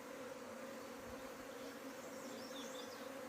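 Honey bees buzz steadily around an open beehive being inspected, a dense, continuous drone close to the listener with a few individual bees whining past, no talking.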